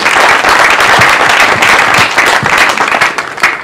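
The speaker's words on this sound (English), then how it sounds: "a round of applause for Elsha and Ghana, please." Loud, close audience applause at a 2021 graduation ceremony, dense rapid clapping from a crowd holding steady before thinning out near the end.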